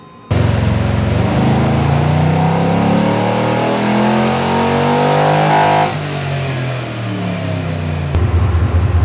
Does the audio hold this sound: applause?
no